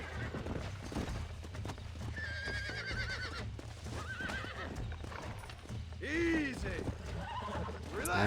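A horse in Red Dead Redemption whinnies several times with rising and falling neighs while hooves clip-clop underneath, close and clear, with someone talking over parts of it.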